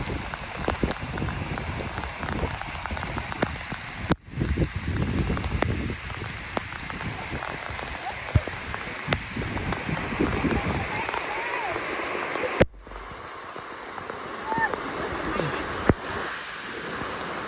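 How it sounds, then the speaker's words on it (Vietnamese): Steady rain patters densely on surfaces outdoors near a house for the whole stretch, fairly close and loud, while people talk over it at times. "Mưa rồi."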